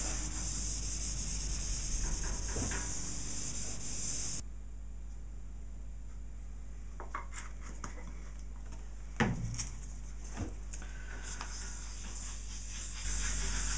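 A cloth rubs Danish oil into a wooden surface, giving soft, faint scrubbing strokes over a steady hiss, with a few light knocks and no one speaking.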